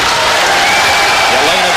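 A boxing arena crowd applauds early in a heavyweight fight, a dense, steady wash of clapping and crowd noise with commentary speech over it.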